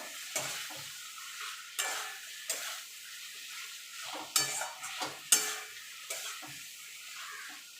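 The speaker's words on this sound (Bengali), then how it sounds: "পটলগুলো দিয়ে ভালো করে মশলার সঙ্গে কষিয়ে নেবো" Pointed gourd (potol) sautéed with spice paste in a pan, a spatula scraping and stirring in repeated strokes over a soft steady sizzle, close and fairly quiet, with no talking.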